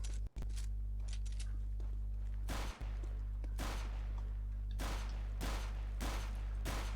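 Repeated bursts of gunfire from an aim bot shooting in the video game CS:GO, several loud volleys spaced roughly a second apart over a steady low hum.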